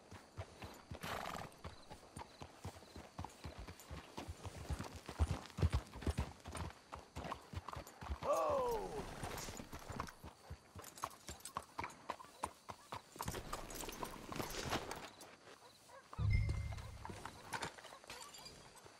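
Horse hooves clip-clop steadily over a hard surface for a long stretch in Red Dead Redemption 2, with a horse whinnying midway and a low snort near the end.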